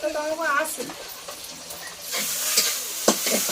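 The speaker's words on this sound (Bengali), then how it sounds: "ডিম দিয়ে কলমি শাক ভাজা হয়ে গিয়েছে" Water spinach stir-fried with egg in a pan gives a steady sizzle with scraping stirs and a sharp clatter, while a voice speaks briefly at the start.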